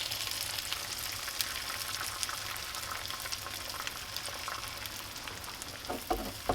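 Eggs frying in oil in a pan, with a steady close crackling sizzle that runs without a break, plus a few brief clicks near the end.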